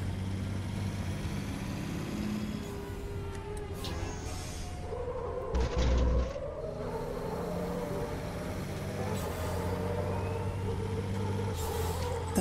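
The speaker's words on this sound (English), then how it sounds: "Don't know if you can hear the turbo spooling up behind us" Heavy MF-Truck racing truck in Raceroom Racing Experience, its engine droning steadily with a turbo spool rising behind, a short louder burst midway, continuous and close.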